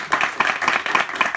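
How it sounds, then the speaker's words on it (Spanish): Applause at a book presentation for Terra Incógnita, with audience hands clapping in quick, rhythmic bursts that pulse steadily for a moment, fairly close and loud. "yo pido un fuerte aplauso para Terra Incógnita por todo"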